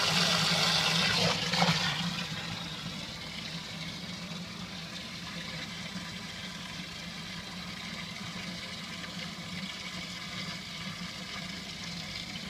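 Water rushes steadily through a new 3M Aquapure AP802 carbon water filter used as a pre-filter, a continuous hissing flow with a louder surge at the start, close and without talk.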